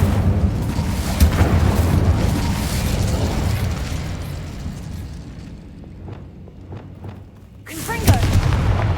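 A fire spell blazes in a fantasy wizard video game, a dense roaring, crackling burst that fills the first seconds, eases into scattered pops, then swells again with another loud surge near the end.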